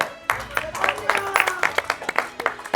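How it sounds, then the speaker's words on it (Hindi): A group of people claps in a short, uneven burst of distinct, fairly close claps at a village election gathering, with voices and background hum underneath. "बस ताली।"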